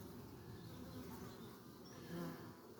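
Honeybees bustling at the entrance of a hive as foragers bring in pollen: a soft, steady buzzing hum of many wings, fairly faint and continuous, swelling slightly near the end, with no voices.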